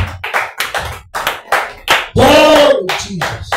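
A church congregation clapping hands in worship, a run of sharp, loud, evenly spaced claps close by, followed by a brief burst of a raised voice.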